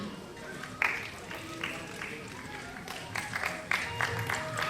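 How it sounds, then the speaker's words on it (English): An audience at a silver jubilee celebration breaks into applause, a steady, moderately loud wash of clapping with a few sharper bursts and some voices mixed in. "so another round of applause"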